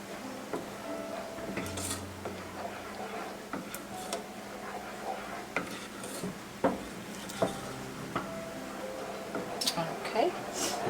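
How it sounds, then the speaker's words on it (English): Spoon scrapes and taps against a bowl as peanut butter is stirred into a thick chocolate mixture for old-fashioned boiled cookies, a run of irregular soft knocks and clicks beneath a talking voice. "just kind of stir this together. Mix in that peanut butter"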